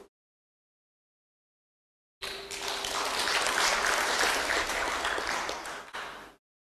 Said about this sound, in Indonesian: Jadi jangan tepuk tangan dulu Pak.